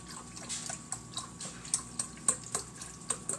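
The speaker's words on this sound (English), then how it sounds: "Splashing all over the place." Faint liquid splashes and drips from a pot of cooking pasta with chicken broth and milk, heard as soft irregular taps and splatters against a quiet background, with no talking.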